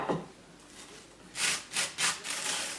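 Knife spreading margarine on toast for a fish liver dish, a few close, soft, scratchy rasping strokes, the louder ones bunched in the second half, with no talking.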